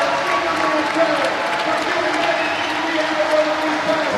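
A large crowd at a strongman competition gives sustained applause and cheering in a standing ovation, a dense, continuous roar of clapping that fills the whole stretch, with an announcer's voice talking over it.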